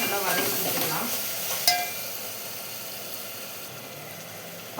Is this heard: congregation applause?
no